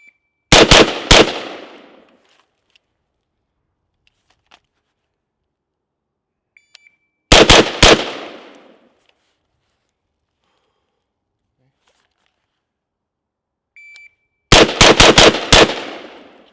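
Rapid strings of rifle shots at an outdoor shooting range, three loud bursts of several close shots each separated by quiet pauses, with faint shot-timer beeps between strings.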